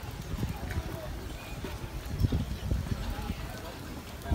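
Horse hooves clip-clop on hard ground at the Fort Worth Stockyards, a loose, uneven patter of steps amid the busy outdoor crowd murmur.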